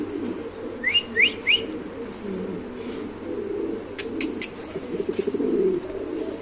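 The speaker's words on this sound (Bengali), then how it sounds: "ওই কবুতরটা ওইটা হচ্ছে কি আমেরিকান ডোমেস্টিক হাই ফ্লাইং মাদি ভাই।" American domestic high-flying pigeons coo and call in a loft, with a few short rising whistles early and sharp chirps later over a steady low murmur of flock sounds.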